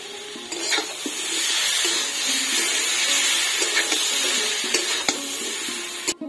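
A spoon stirs fried potato with ground green chili, dried chili, onion and coriander pastes in a sizzling pan, soft scraping and clinks over a steady fry hiss.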